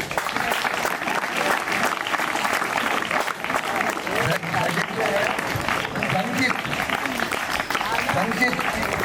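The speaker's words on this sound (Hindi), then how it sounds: "तालियां।" Loud, continuous applause from a crowd at a senior secondary school's 75th Independence Day ceremony in Jind, India, fills the whole stretch, a dense wash of clapping with no breaks.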